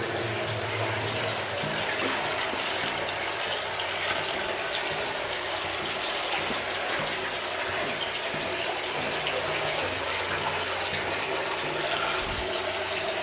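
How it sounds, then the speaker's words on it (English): Steady broadband rush of flowing water fills a dark underground tunnel, continuous and fairly close, with no clear voices over it. "Starting to hear a lot of water noise up here."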